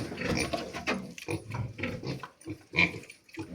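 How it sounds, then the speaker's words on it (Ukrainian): Weaned piglets grunt and squeal close by in a busy pig barn, a dense overlapping chorus of short snorts and squeaks. "Дивіться, друзі, зараз маємо вже відлучені поросята."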